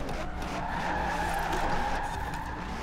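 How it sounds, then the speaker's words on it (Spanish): A Hennessey VelociRaptor 6x6 truck drifting in Forza Horizon 4 produces a continuous, close tire squeal over a rumbling engine, holding steady for the whole stretch. "estoy aquí derrapando, acortando todo lo que puedo"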